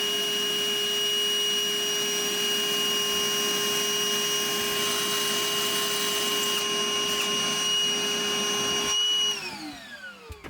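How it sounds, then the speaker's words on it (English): Shop vac catching metal shavings while a hole is drilled in a diesel truck's exhaust pipe for an EGT probe bung, droning with a steady high whine throughout before winding down and cutting off at the end. "we're going to use the shop vac to try to prevent metal shavings from getting in the pipe"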